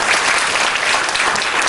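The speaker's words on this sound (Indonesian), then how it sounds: "Tepuk tangan dong sama Tuhan." Loud, dense applause from a church congregation fills the whole short stretch at a steady level, a continuous wash of many hands clapping with no voices rising above it.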